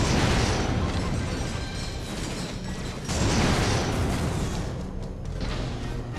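Rocket explosions in the sci-fi action game Ratchet and Clank Future: A Crack in Time: a dense, continuous barrage of blasts and pops layered with mechanical clanking, loud and unbroken throughout.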